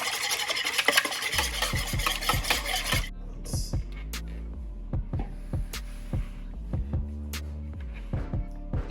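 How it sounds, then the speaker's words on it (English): Milk and vegetable oil are stirred together in a bowl for dark chocolate pistachio muffins: a few seconds of brisk scraping, then rhythmic, close stirring strokes that tap and swish against the bowl. "We're gonna add in our milk, vegetable oil. Mix those together really well."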